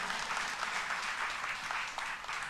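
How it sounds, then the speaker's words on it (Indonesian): A church congregation claps together, a dense, steady round of applause that fills the whole short stretch without a break. "Boleh kasih tepuk tangan buat Tuhan."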